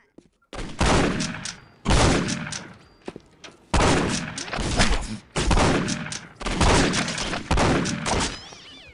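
Loud close gunshots from the Postal 2 video game, firing in about six sharp bursts separated by brief pauses, each blast ringing out with a decaying tail.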